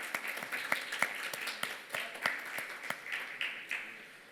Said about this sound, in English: please welcome with a huge round of applause, Dr. Daniel Gogolin